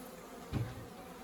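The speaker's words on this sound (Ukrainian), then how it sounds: "я знав, що в стіні є бджоли" A single short buzz of a honeybee from bees living inside a wall passes close by, rising briefly out of a quiet background.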